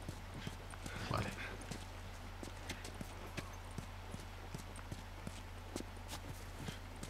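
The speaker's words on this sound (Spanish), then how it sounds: "ahora cojo el caballo" A horse's hooves clip-clop at a steady walking pace in The Last of Us Remastered, the quiet, evenly spaced clops riding over a constant low hum, with no talk.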